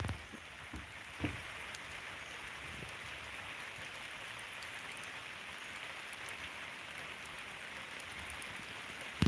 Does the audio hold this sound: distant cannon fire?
no